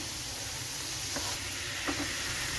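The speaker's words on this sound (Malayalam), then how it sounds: "അപ്പോൾ നമ്മുടെ പ്രോൺസ് ഇവിടെ ഫ്രൈ ആയിട്ടുണ്ട്" Prawns fry in hot oil with a steady, close hiss of sizzling and a couple of faint clicks from the pan, with no voices.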